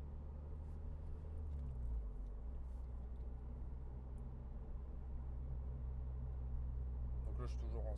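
A Honda Civic Type R EP3 engine drones at a steady, low cruise while driving, a faint constant rumble with road noise, with a brief higher squeak near the end.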